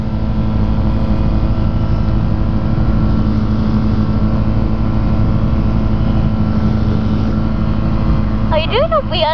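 Small aircraft engine run up to full power in strong wind, a loud, steady roar that fills the whole stretch, with a brief tonal whine near the end.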